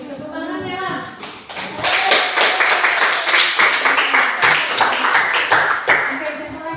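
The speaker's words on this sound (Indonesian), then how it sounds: "Tepuk tangan ya." Schoolchildren clap together in a classroom, a dense, uneven burst of hand claps lasting several seconds, with a voice talking briefly at the start.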